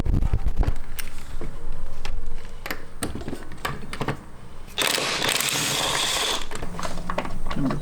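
A hand ratchet clicks in quick bursts while loosening the E12 bolts that hold a Bilstein B8 strut, with sharp metallic taps and a louder grinding stretch midway, close and without talk.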